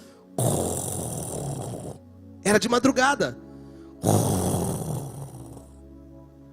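A voice imitates loud snoring in two long, rasping drawn-out breaths, with a short spoken phrase between them, close and alone.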